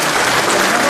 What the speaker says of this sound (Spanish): gran aplauso para ellos